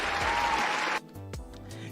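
A short burst of clapping applause, dense and bright for about a second, then cut off abruptly.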